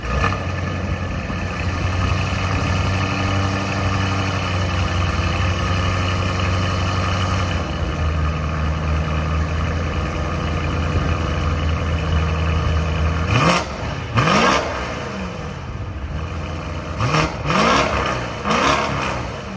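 BMW M850i 4.4L twin-turbo V8 with catless downpipes, an X-pipe and the mid resonator removed. It idles with a deep, steady burble, then rasps out several sharp blips of the throttle near the end, loud and close.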